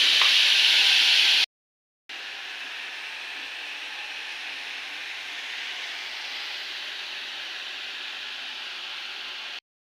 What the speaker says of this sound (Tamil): வெங்காயம் நல்லா பொன்னிறமாக வதங்கிடுச்சு